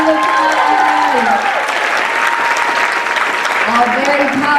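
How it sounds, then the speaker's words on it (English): A sustained round of applause fills the room at a community women's event, loud and even throughout, with a voice talking over the clapping. "And round of applause."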